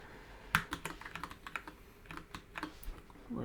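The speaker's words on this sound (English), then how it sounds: "Messing around with the keys on my keyboard now." Bursts of clicky typing on a computer keyboard, keys tapped in short irregular runs with brief pauses, close and fairly quiet in a still room.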